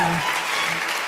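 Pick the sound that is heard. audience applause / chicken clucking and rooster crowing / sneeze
audience applause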